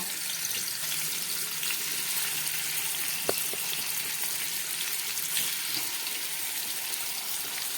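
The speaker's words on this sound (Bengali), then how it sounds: "আমি মাছের কাঁটাগুলো ভেজে নিচ্ছি" Katla fish bones frying in hot oil in a wok, a steady close sizzle and crackle with a faint watery hiss and one sharp click partway through.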